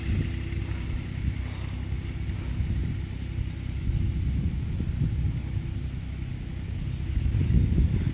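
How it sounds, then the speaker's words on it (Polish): An Ursus C363P tractor pulls a hay rake through dry hay on a farm field, a steady low engine rumble throughout with no talk, slightly louder toward the end. "Jak sobie Ursus działa z grabiarką."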